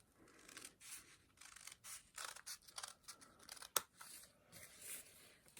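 Scissors snip through folded lace in a run of close, crisp rasping cuts with brief pauses between strokes and one sharp click partway through.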